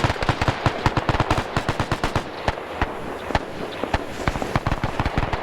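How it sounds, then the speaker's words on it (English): Sustained bursts of automatic gunfire in a World War II video game, loud and sharp, rattling continuously with overlapping shots at close range. "I'm hearing gunfire."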